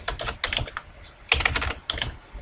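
Computer keyboard keys are typed in quick, clattering bursts with short pauses between them while text is entered in Microsoft PowerPoint 2010. The sound is close and fairly soft, and no one speaks.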